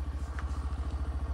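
Motorcycle on an off-road track, its engine chugging in a rapid, even pulse, close and steady throughout the short stretch.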